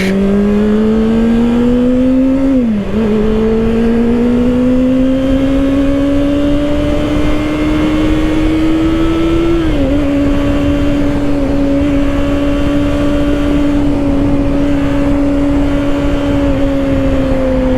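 A 2024 Kawasaki ZX-6R 636 sport bike cruises on a highway in sport mode with its quick shifter, a loud steady engine drone climbing in pitch with two quick upshift dips and continuous wind rush, no talk.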